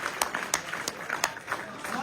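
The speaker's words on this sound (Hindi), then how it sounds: "भरपूर तालियों में इस्तकबाल कीजिए।" Scattered hand claps from an audience at a mushaira poetry gathering welcoming a guest, a handful of sharp, separate claps spaced irregularly over a faint murmur of voices.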